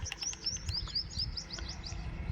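Rapid, high-pitched sparrow chirps repeat in a steady run over a low outdoor rumble, close and clear, as the sparrow faces a mirror in a natural setting.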